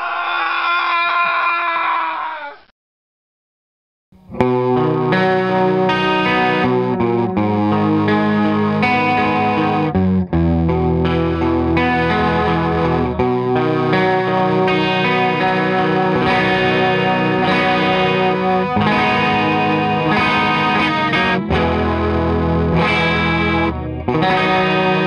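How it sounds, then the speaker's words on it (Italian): A guitar runs through a Boss CE-2 chorus pedal, its shimmering, wavering chords and notes ringing loud and continuous after a brief opening phrase and a short pause. "è giunto il momento di farvi sentire come suona il mio CE2"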